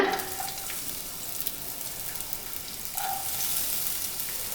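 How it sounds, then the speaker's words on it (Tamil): Onions dropped into hot oil for vegetable fried rice, giving a steady close sizzle and crackle that holds throughout with slight swells, no voices present. "எண்ணெய் சூடாயிடுச்சுங்க. ஆனியன் போட்டுக்கலாங்க."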